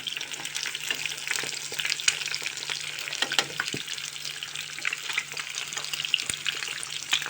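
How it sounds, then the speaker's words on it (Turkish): Eggs frying with hot peppers in a pan give off a dense, steady crackling sizzle with bright spitting pops throughout, close up and continuous, with no voices. "İlk beyazını pişiriyorum yumurtanın."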